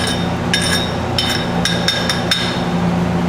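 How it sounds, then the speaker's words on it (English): Chipping hammer pecking slag off an arc weld on metal: a handful of sharp metallic clinks at an irregular pace, close and fairly loud over a steady background hum. "chipping hammer, you're not chipping it like you're cutting wood. It's just pecking it"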